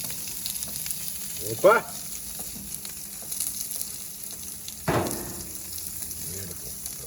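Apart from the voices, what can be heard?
pork chops and pork belly sizzling on a grill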